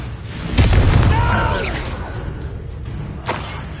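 A Confringo spell blast in Hogwarts Legacy: a heavy boom with a whooshing burst that decays over a couple of seconds, then a second, smaller impact, amid game combat noise.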